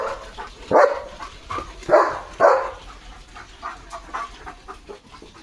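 A nearby dog barks three loud times in quick succession, followed by softer, scattered yips and background noise.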